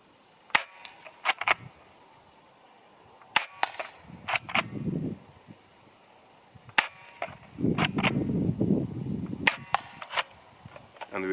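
A Steyr TMP Double Eagle airsoft gun fires single rounds at a 10 m target, sharp snapping cracks spaced irregularly in small groups, with faint handling rustle and muffled clatter between shots.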